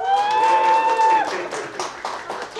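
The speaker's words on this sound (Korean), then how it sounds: "자, 박수!" Applause from the audience at a Korean architecture policy idea competition award ceremony, a dense wash of clapping that follows a sustained tone and a voice near the start, then carries on steadily under crowd noise.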